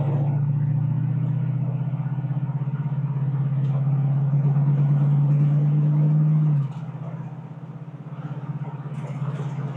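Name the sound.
1966 Ford Mustang accelerating onto the road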